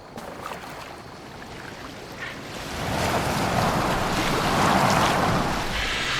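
A boat sails across open water in Assassin's Creed Valhalla, with a steady wash of waves and wind that swells louder halfway through, no voices.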